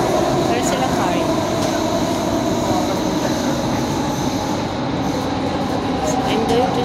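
Riding a metro train: a steady, loud rumble of wheels and motor fills the whole stretch, with a constant hiss and faint high squeals, and no clear talking.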